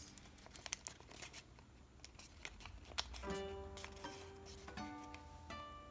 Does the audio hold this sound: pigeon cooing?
no